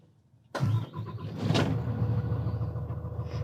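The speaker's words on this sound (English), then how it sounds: "And once that's complete, you can go ahead and start the coach." A front-engine diesel motorhome cranks and fires up, settling into a steady loud rumbling idle close by after a brief quiet moment.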